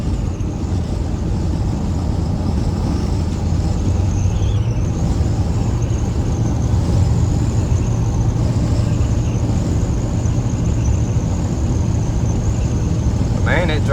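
A 1986 Chevy K10 truck drives along the road, its engine a steady low rumble blended with road and cab noise that holds constant throughout, with a brief voice near the end.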